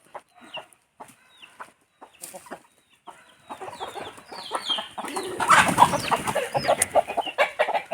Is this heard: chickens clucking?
yes